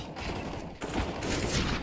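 M4 rifle fire from Counter-Strike on de_Inferno during a professional NIP versus Fnatic match, a dense burst of rapid shots that breaks briefly and then continues loud and close.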